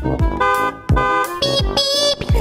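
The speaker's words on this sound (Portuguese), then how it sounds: "A buzina do ônibus faz bip, bip, bip" A cartoon bus horn beeps in a bright, musical children's song, sounding as repeated bouncy toots over a steady instrumental backing.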